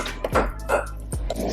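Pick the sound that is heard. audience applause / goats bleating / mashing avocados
mashing avocados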